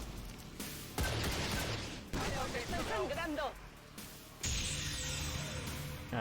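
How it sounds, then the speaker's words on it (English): In XCOM 2, an enemy mech fires a volley of rockets: several loud blasts and explosive bursts crash in separate waves, mixed with game effects and a voice speaking between them. "I gotta hope this mech doesn't do anything too bad to us now. He's gonna shoot rockets."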